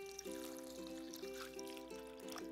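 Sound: pouring water into a bowl

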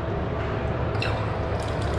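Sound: sensor water tap running in airport washroom

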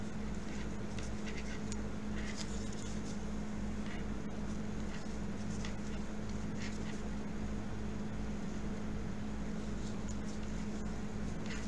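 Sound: window air conditioner buzzing

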